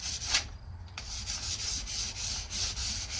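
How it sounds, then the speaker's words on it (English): Coarse abrasive rubbed up and down the bar of a Quick Grip bar clamp, a close, steady scratchy scuffing in rhythmic back-and-forth strokes with no talking. "I'm going to rub it all the way up and down, scuff it up"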